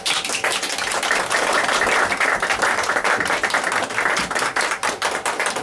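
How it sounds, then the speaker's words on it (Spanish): Lively applause for a singer, vocalist of a group, a dense, close burst of many hands clapping with crisp individual claps standing out, continuing steadily without talk. "un aplauso para ella."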